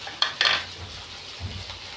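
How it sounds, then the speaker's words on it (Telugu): Sliced okra frying in a pan gives a soft, low sizzle, broken by a couple of sharp metallic scrapes of a spatula near the start and a faint clink later. "అది వేగుతుంది"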